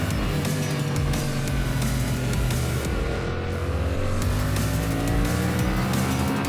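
Continuous engine drone and steady rushing wind of a motorbike riding the Mae Hong Son Loop in Thailand, loud and unbroken throughout with no voices.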